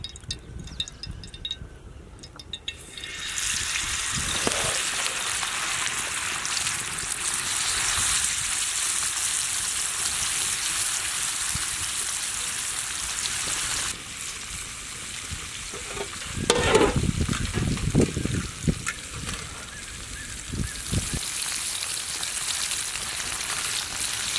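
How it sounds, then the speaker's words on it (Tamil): Masala-coated fish fries in oil, giving a quiet start and then a steady loud sizzle, with a sharper burst of crackling midway and continuous hiss to the end. "இந்த மீன் ரெடி ஆயிடுச்சு மசாலாலாம் இறங்கி பொறிச்சிடலாம்"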